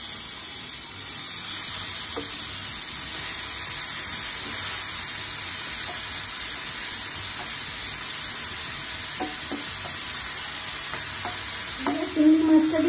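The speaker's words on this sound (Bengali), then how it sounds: "চিংড়ি মাছটা কিন্তু ভাজা হয়ে গেছে, হালকা করে আমি একটু ভেজে নিয়েছি" Prawns coated in salt, turmeric, garlic and ginger fry lightly in hot oil. A loud, steady sizzling hiss holds throughout, with faint stirring touches and a brief clatter of utensils near the end.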